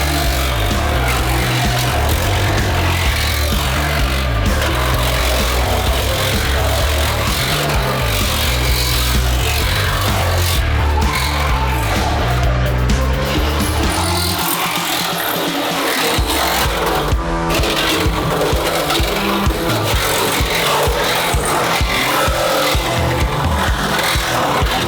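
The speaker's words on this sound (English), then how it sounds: "I think it might be time for the Sawzall." A Sawzall reciprocating saw cuts on a Ferrari F12 with a loud, continuous buzzing rasp that runs without a break.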